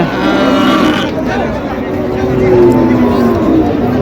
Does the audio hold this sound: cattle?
yes